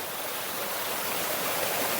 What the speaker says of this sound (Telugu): ఇప్పుడు పైనుంచి వస్తున్నాయి ఫ్లో ఫ్లో పైనుంచి వస్తుంది